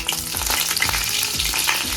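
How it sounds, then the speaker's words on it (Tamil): Cinnamon and other whole spices hitting hot oil in a home kitchen, a dense, loud, continuous crackling sizzle close by with no voices. "இது லைட்டாக சூடு ஆனோடனே பட்டை வகைகளை இதெல்லாம் போட்டுருவோம்."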